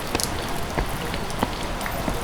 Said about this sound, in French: La pluie avait redoublé d'intensité